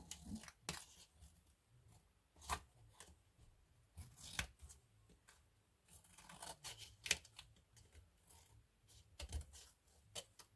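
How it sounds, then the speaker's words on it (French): Scissors snipping off a small excess piece, a series of quiet, sharp crisp cuts at irregular intervals, close and alone. "On va couper le petit excédent."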